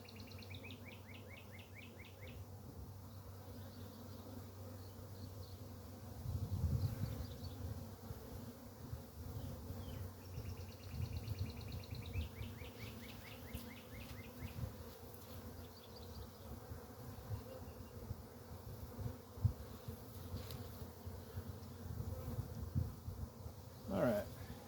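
Honey bees from a swarm trap colony give off a faint, continuous low buzzing hum close by, with occasional brief chirps and small handling sounds and no clear talk.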